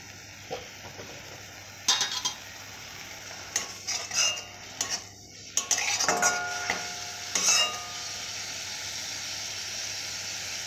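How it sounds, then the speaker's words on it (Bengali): Vegetables fry in oil in a pan for a potol masala with dal, a steady soft sizzle broken by several sharp scraping clinks of a utensil stirring against the pan, close by with no voices. "এভাবে ভেজে নিয়েছি।"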